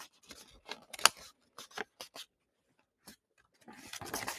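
Paper being creased and folded by hand for an origami hemoglobin model: sparse, close crinkles and sharp paper snaps in short bursts separated by quiet gaps, faint overall.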